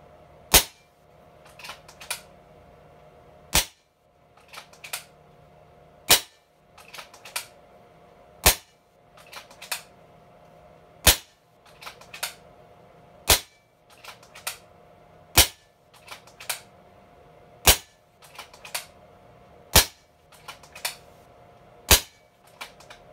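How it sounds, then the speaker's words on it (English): Kral Puncher Breaker .25 air rifle tuned by Annihilator firing JSB pellets across a chronograph, a long string of sharp, loud cracks spaced about two seconds apart with faint mechanical clicks between, no talk. "We're going to shoot these across the chronograph and get a reading of the power and shot string."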